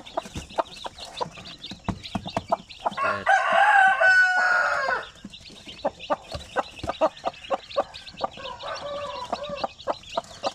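At a nest of newly hatched chicks, Shamo chickens make steady high peeping chirps. A rooster crows loudly partway through, and soft clucks follow.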